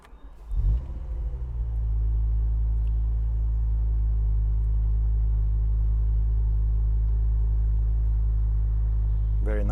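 A BMW E64 M6 with its stock, unmodified exhaust cranks and fires, flaring briefly before settling into a deep, steady idle rumble that holds close and loud to the end.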